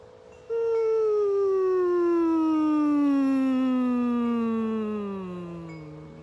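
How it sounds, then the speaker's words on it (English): A gentle, steady human hum glides smoothly from a comfortable high pitch down to a low one, a single sustained tone heard alone and close, fading softly at the end. "you can start to incorporate your voice just in a nice gentle hum"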